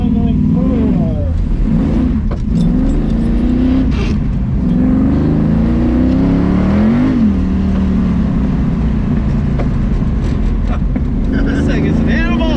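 A 1969 Chevrolet Camaro accelerates hard around an autocross course, its engine note rising and falling in loud, continuous revving sweeps throughout, close and unbroken, with a voice talking over it.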